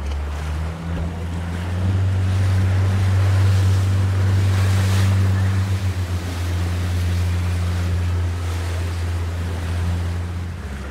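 Large sea waves and churning water surround a droning boat engine off Corfu, with gusts of wind buffeting the microphone, loud and steady throughout.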